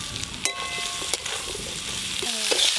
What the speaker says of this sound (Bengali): এবার কেটে ধুয়ে রাখা আলুগুলো দিয়ে আর খানিকক্ষণ একটু ভালো করে নেড়ে নেব।